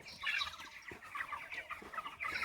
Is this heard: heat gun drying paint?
no